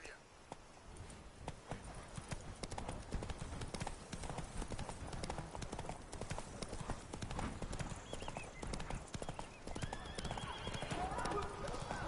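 A horse in The Witcher 3 gallops hard in a dense, rapid, continuous drumming of hooves close by, with a whinny and faint game sounds layered on top.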